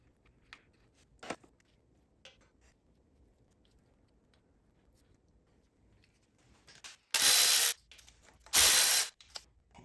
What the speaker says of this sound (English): just remove all of these bolts on here and remove that guy